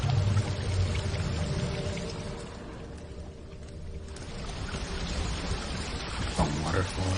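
Rushing water from a magical waterfall flowing upwards in The Witcher, a steady broadband wash of water filling the scene, dipping briefly midway before swelling again, with a voice faintly present.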